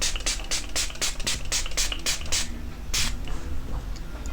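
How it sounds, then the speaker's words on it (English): Makeup setting spray is misted onto a face in a rapid series of short, hissing pumps, close and fairly loud, followed by a single longer spritz. "And then you put on your setting spray."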